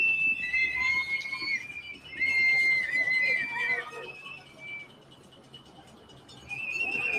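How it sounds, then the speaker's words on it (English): A high, sustained whistle blows in several long bursts, fairly loud and close, with short gaps between blasts and a quieter stretch before it resumes. "That's the sound of a whistle."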